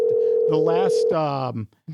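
A steady telephone dial tone plays while a call is being placed, and people talk over it as the tone continues before cutting off near the end.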